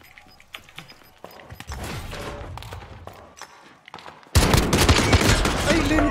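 Gunfire in the Call of Duty video game: scattered single shots and bursts, then a loud dense fusillade of automatic fire near the end.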